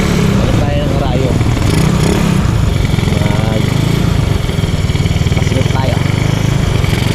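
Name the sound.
motorcycle engine running with Keihin Sudco flat slide carburetor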